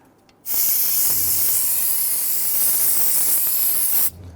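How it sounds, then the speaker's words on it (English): A steady hiss of an aerosol can spraying solvent onto brake parts of a Buick Enclave for about three and a half seconds, close and fairly loud, then stopping abruptly. "Spray this down with some solvent."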